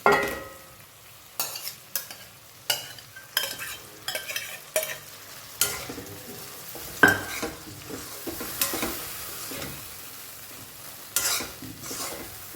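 Moong dal being stirred in a sizzling pan, with sharp scrapes and clinks of a spoon against the pan recurring roughly every second over a soft continuous fry, close up and without speech.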